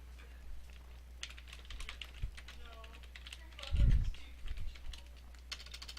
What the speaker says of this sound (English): I will indeed type a password